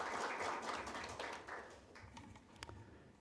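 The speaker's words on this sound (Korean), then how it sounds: "큰 박수로 맞이해 주시기 바랍니다" Applause welcoming a guest at a district officials' meeting, a dense burst of clapping from a crowd that thins out and fades over a few seconds.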